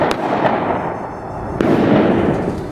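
Gunshots picked up on security camera footage. Sharp, distant cracks stand out over a noisy outdoor background, with a few spread across the short span and one stronger report near the middle.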